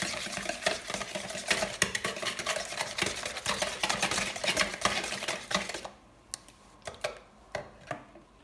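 Eggs and sugar being stirred in a bowl, a dense, steady scraping and clinking of utensil against the dish that runs continuously for about six seconds, then thins to a few scattered taps.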